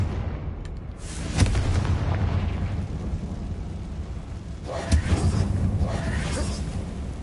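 Bombarda spell blasts in the Hogwarts Legacy video game, deep booming explosions with a rumbling tail, one hit early and another burst later, loud and close amid ongoing game sounds.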